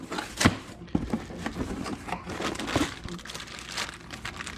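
Packaging crinkling and rustling while a Harbor Freight polisher is unboxed, close and fairly quiet, with irregular crunchy bursts throughout.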